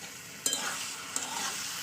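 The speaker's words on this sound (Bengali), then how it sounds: "চলুন মশলাটা মিশিয়ে দিলাম" Spice masala stirred in a frying pan while cooking an egg curry, a soft sizzle under two quick scraping strokes of a utensil, close and fairly quiet.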